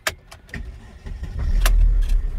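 2011 Mercedes-Benz E350 Bluetec diesel with 106,000 miles starting up: clicks and key jangles, then the engine cranks and catches into a low, steady diesel rumble, close by.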